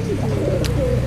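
A caged bird at a bird market gives a short cooing call over a low background hum, one brief close vocalization with a faint chirp in the middle and no voices.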